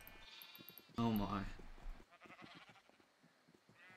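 A Minecraft sheep lets out a loud, wavering bleat up close, lasting about a second, with a person talking before and after it.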